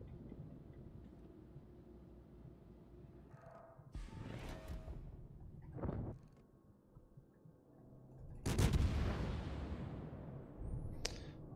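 Ship-mounted guns open up in a space battle video game, firing in several separate bursts of sharp, whip-like cracks and whooshing blasts, some loud and close, others thinner, with quiet mechanical hum between them.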